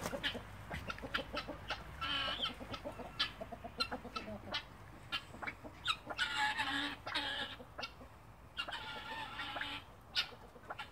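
Red golden pheasants and roller pigeons cluck and call in a pen, a busy stream of short, repeated bird calls at moderate volume, with no speech.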